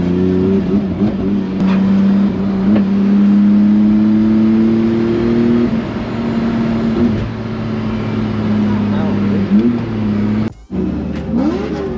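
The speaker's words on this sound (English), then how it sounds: "every time I hit full throttle it just cuts out" A BMW E46 engine on a race track running rough under throttle, a loud close drone that holds steady then falters and drops out abruptly near the end before picking up again.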